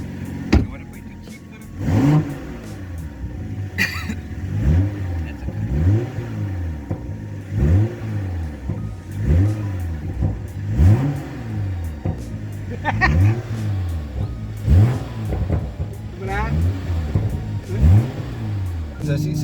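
A BMW M3 G80 in Sport Plus mode accelerates hard, its engine note climbing again and again in a steady series of rising revs heard from close by, with voices talking over it at times.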